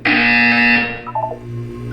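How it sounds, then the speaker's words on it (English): A loud electronic buzzer sounds in the video game Portal 2, one harsh sustained tone lasting under a second before cutting off, followed by lower fading tones and a quiet hum. "You will hear a buzzer."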